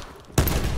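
Gunfire in Call of Duty Black Ops 4, a sudden loud burst of rapid shots that starts abruptly after a quiet moment and continues to the end.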